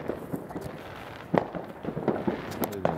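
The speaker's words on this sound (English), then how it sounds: "You can hear. Whoa. Oh yeah, we can see. We can see fireworks." Midnight New Year's fireworks crackle and thump at a distance in scattered, irregular bursts over a low background hum, with no clear talking.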